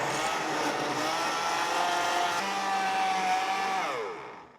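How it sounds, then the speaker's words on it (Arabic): A steady electric mixer whirs continuously beating apple cake batter, its motor pitch shifting slightly as it works, then winds down and stops near the end. "رح أخلط باستخدام هذا الخلاط لمدة 5 دقايق"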